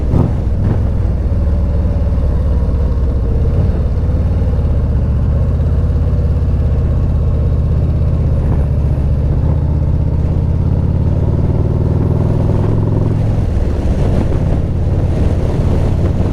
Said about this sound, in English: It's only when you crack the throttle that you can really hear it.